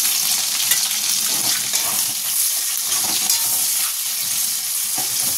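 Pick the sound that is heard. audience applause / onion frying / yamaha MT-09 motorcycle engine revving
onion frying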